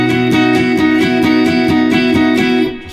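A single electric guitar part from a song chorus, sustained chordal tones with a steady pulsing rhythm, loud and close with no talking, ringing out at the end.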